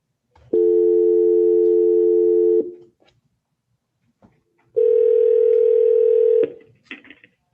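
A telephone dial tone heard when a call drops off a phone-in court meeting line: two long, steady, buzzing tone bursts of about two seconds each, separated by a short silence, loud and close, with no talk.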